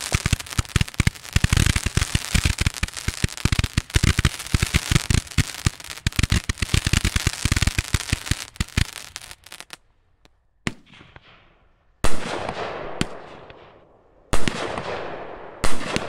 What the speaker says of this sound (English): Nice Roman candle barrage.